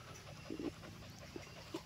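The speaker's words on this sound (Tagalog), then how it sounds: "Masayahin siyang aso. Takbo ng takbo, walang ginawa." A cheerful, energetic dog on a farm pants in a few quick, soft breaths, faint and close over a steady background hiss.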